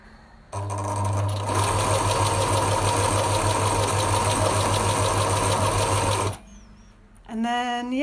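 A sewing machine runs steadily for about six seconds while stitching a fabric face mask, giving a loud, close, continuous motor whir with rapid needle chatter that stops abruptly. A brief voice-like tone follows at the end.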